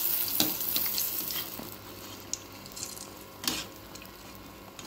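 Appam batter frying in hot oil, with oil spooned over the top, a steady close sizzle with a few sharper pops and crackles scattered through.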